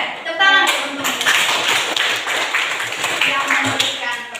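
Classroom applause from a group of pupils, a burst of brisk hand clapping that carries on for several seconds, close and fairly loud, with children's voices mixed in.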